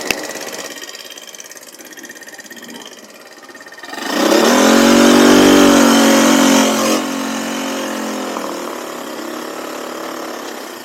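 Engine of a homemade 300-dollar buggy with a CVT drive, idling and then revving hard with a rising whine, holding high for a few seconds, then settling to a steady, loud running drone.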